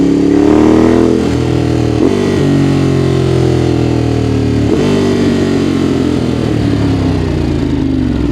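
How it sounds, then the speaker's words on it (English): A Ducati Monster 821 with a quickshifter and slipper clutch drops through gears, the engine revving loud and close and then falling in pitch in a couple of stepped shifts, with a steady motor drone in between. "I'm going to use the Quickshifter to downshift."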